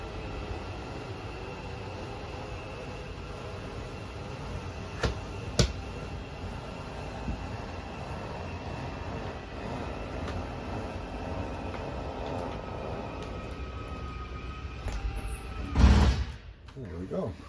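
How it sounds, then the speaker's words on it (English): Slide-out motor on a 2016 Heartland Prowler 285LX travel trailer extending the slide, a low steady mechanical hum and rumble with a couple of clicks, a louder clunk near the end, moderately close. "press and hold out, and the slide makes its way out"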